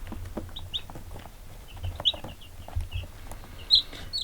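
Young black sex link chicks of a dual-purpose breed make soft clucks and brief high peeps, scattered and close, with faint shuffling between calls and no talking.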